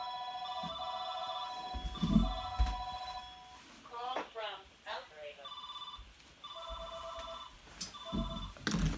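A telephone rings in repeated electronic bursts of warbling tones, moderately loud and close, while a person talks in between and over the rings.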